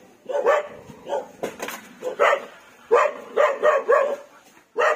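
A dog barks repeatedly in short bursts, some in quick clusters, at moderate distance with a bit of background noise between barks.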